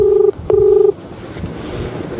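Two touch-tone dialing beeps for a phone call, each lasting close to half a second with a brief gap between, loud and near, then quiet line hiss.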